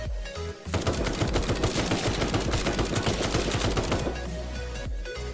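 Rapid automatic gunfire from a video game, Night of the Dead, during a zombie hunt: a loud, dense stream of shots hammering almost nonstop for about three and a half seconds, then cutting off into quieter game ambience.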